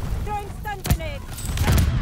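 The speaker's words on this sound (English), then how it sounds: "Throwing stun grenade." A stun grenade detonating in Call of Duty: Vanguard on the cramped Shipment map, one sharp crack amid bursts of gunfire and rumbling game noise, with talk heard over it.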